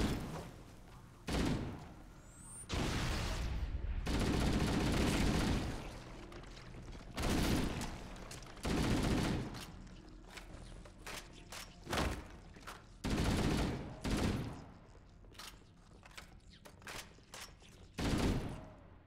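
Gunfire in Halo: Combat Evolved, with loud bursts of automatic fire and single shots that repeat in clusters, broken by short pauses, close and dominant with no talking.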